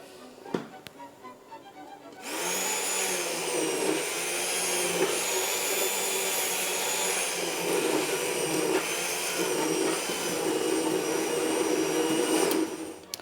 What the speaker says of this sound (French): Donc c'est prêt, je vais pouvoir mixer le tout.